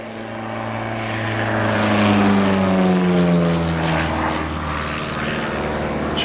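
SA Bulldog propeller aeroplane flying at an airshow at East Fortune, a steady droning engine that swells as it passes overhead and then slowly fades, with a slight falling pitch.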